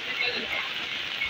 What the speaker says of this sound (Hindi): अभी ये बारिश भी शुरू हो गई